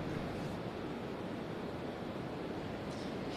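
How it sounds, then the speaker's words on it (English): Rough ocean surf during Hurricane Helene on the Florida coast: a constant, dense roar of crashing waves mixed with gusting wind buffeting the microphone, loud and steady throughout with no voices. "the surf is very rough"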